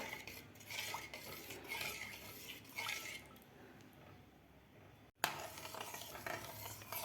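Jowar flour porridge (ambil) is stirred in a pot: a utensil scrapes and clinks against the metal in repeated, uneven strokes, with faint bubbling, close and quiet, and a sharp bump near the end.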